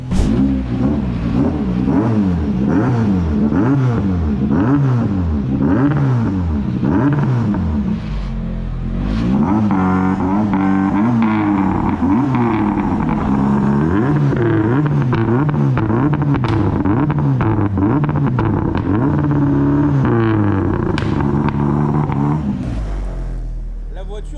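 Rally car engine revving hard at close range, rising and falling in repeated loud sweeps with a short lull partway through, continuous and dominant.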